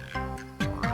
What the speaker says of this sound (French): On s'est chapimorphosé en grenouille.